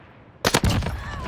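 Gunfire from an H4 Blixen in Call of Duty Vanguard Warzone on Rebirth Island: a loud, sharp burst of rapid shots breaking in after near silence, with a ringing tail.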